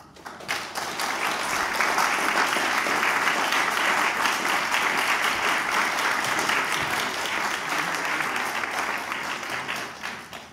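Sustained audience applause at a Harvard Hillel forum, a dense, even wash of clapping that swells in quickly and holds strong for about ten seconds before easing slightly at the end.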